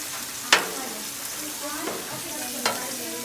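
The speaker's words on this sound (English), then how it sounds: "We're going to add 3 spots of butter here on the grill." Pats of butter sizzle on a large Blackstone flat-top griddle beside steaks and onions, a steady loud frying hiss with a few sharp scrape or tap accents from a spatula, close up and free of speech.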